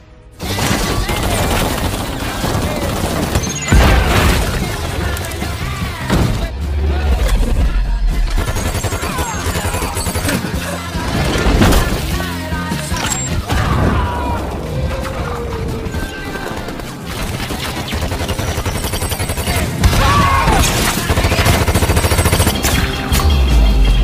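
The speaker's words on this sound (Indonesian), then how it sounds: "Exy dan Harry juga memulai pertarungan dengan melemparkan sebuah granat." A grenade blast and gunfire during a fight scene in the film Kingsman: a loud, dense barrage of rapid shots, crashes and booms that runs almost without a break from start to finish.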